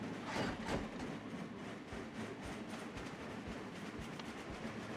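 Train locomotive drifting in the video game Train Crisis, heard as a steady broadband rumble of rail noise with faint rhythmic clatter, moderately loud and continuous without speech.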